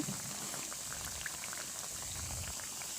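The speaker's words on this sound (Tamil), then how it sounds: "பாவக்காய் நல்லா கிறிஸ்பியாக வறுக்கிற வரையும் நல்லா வறுத்துக்கணும்." Bitter gourd slices deep-fry in hot oil until crisp for chips. A soft, continuous bubbling sizzle with tiny pops holds steady throughout, quiet and unbroken by speech.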